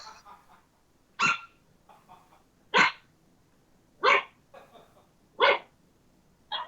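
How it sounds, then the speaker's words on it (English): A dog barks four times in a slow, even rhythm, each bark sharp and fairly close, with quiet pauses and faint murmuring between them. "I heard a dog barking while you pretended to blow into a whistle."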